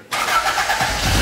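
A Toyota AE86 engine fires up abruptly and runs with a loud, raspy, close-up note that builds toward the end, with no voices over it.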